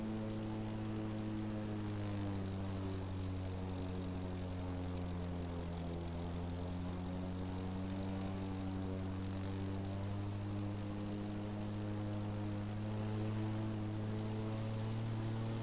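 A propeller plane's engine drones steadily in the racing game The Crew Motorfest, a continuous even hum with a slight pitch shift partway through and no voices over it.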